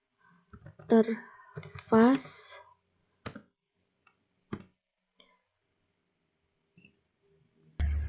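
Scattered keystrokes on a computer keyboard while typing commands into a Cisco Packet Tracer terminal, a few isolated clicks spaced apart after a short stretch of talk, with a louder thump at the end.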